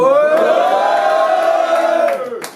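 A crowd at a French rap battle event cheers and whoops loudly for a couple of seconds before the noise tapers off.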